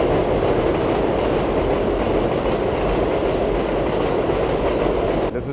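A New York City subway train rumbles past on 31st Street in Astoria, Queens, a loud, continuous roar with rhythmic clickety-clack of wheels filling the whole stretch close by.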